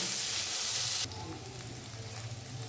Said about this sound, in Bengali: দেখো একটু লঙ্কা দিচ্ছি, দিয়ে এটা ফ্রাই করছি।